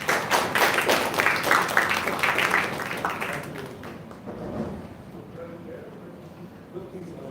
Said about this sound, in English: I would like to have a huge round of applause,